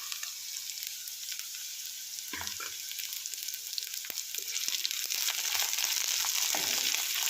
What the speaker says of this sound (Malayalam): എല്ലാം കൂടെ നല്ലപോലെ ഒന്ന് വഴറ്റിയെടുക്കാം